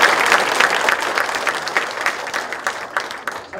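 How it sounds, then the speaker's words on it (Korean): Audience applause at a Busan party convention candidate forum, dense continuous clapping from a crowd filling the room, loud and steady, gradually thinning toward the end with no talk over it. "다시 한번 뜨거운 박수 부탁드립니다"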